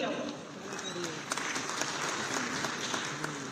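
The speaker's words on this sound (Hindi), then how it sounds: "जोरदार करताली" Strong applause at a government event in Odisha honouring the Prime Minister, sounding as a steady, fairly distant wash of clapping from a large crowd.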